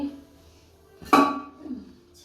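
A pressure cooker clanks down onto a stove once, ringing briefly after a quiet stretch of faint background noise.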